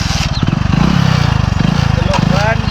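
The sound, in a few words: engine restarted and run in third gear for power test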